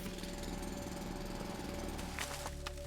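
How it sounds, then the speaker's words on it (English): Steady mechanical drilling in the mining game Foundry, a continuous rattling grind held at even loudness, with a few sharper clicks near the end and no talking. "Drill that out."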